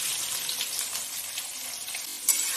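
Three medium chopped onions frying in oil with cumin over medium heat give a steady, soft sizzle with faint crackles and a brief clink near the end, with no voices.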